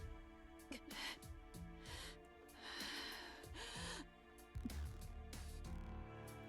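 Caster, a character in the Fate/Stay Night visual novel game, breathes heavily in a series of gasps and snorting breaths, close and prominent over sustained background tones.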